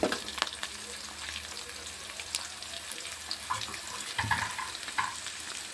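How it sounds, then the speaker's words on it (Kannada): Ginger garlic paste fries gently in oil, a faint, soft sizzle with a few light clinks and stirring sounds in a quiet kitchen. "ಶುಂಠಿ ಬೆಳ್ಳುಳ್ಳಿ ಪೇಸ್ಟ್ ಎಲ್ಲ ಚೆನ್ನಾಗಿ ಎಣ್ಣೆಯಲ್ಲಿ ಫ್ರೈ ಆಗಬೇಕು"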